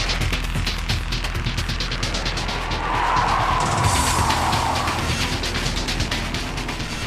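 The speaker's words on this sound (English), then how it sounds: "the slippery condition of the track that day even sent Gansan for a little spin" Honda NSX-R sliding through a spin on a slippery track at Tsukuba Circuit, tires skidding in a steady broad hiss with engine noise underneath, swelling louder midway and continuing throughout.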